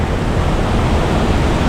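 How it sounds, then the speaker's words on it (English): The Gitgit waterfall in North Bali roars as a loud, dense, unbroken rush of falling water, steady throughout with no voices. "we can see another waterfall from here"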